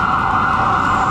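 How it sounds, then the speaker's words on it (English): Emergency vehicle sirens wail steadily through a Boston city street near a historic graveyard, a loud continuous tone sitting over traffic rumble, with no voices. "You can hear the sirens."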